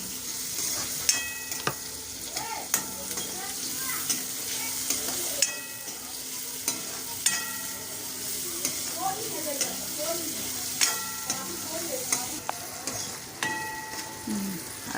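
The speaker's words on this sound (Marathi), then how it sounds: "आता कांदा टाकते, थोडा हा लालसर झाला ना" Chopped onion fries in a pan for a quick Maharashtrian bhendi (okra) bhaji, a soft steady sizzle broken by regular clinks and scrapes of a spatula stirring against the metal.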